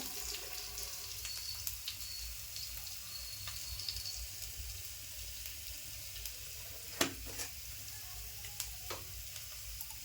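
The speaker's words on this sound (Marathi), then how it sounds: "थोडंसं मी आता हिंग टाकते फोडणीला" Soft, continuous sizzling of hot oil in a pan as asafoetida is added for tempering, fairly quiet and close, broken by a few sharp metallic clinks.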